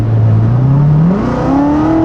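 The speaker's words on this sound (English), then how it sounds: "let's go ahead and open up that exhaust." A loud Corvette exhaust revving up with exhaust valves opened, the engine note climbing steadily in pitch with a throaty, raspy roar and no pauses.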